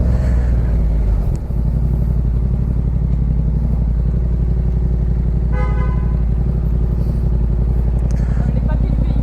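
A motorcycle engine drones loudly and steadily close by with a strong low exhaust note and a brief dip in the first seconds, as the machine passes a waiting rider on the road.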